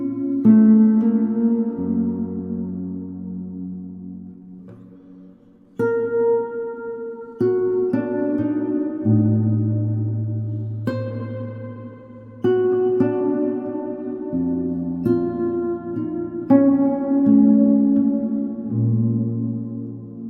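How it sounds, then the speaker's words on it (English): Classical guitar phrases played through a reverb effect, plucked notes ringing out and decaying in a roomy tail, with several distinct attacks separated by brief near-silent gaps. "Here's a classical guitar thing."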